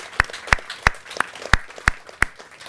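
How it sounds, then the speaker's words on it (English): Seven sharp, evenly spaced claps, about one every third of a second, ring out close and loud against faint room noise, likely a single person or small group clapping in rhythm at a Cannes Lions creative-industry session honoring Future Lions winners. "give them a huge round of applause"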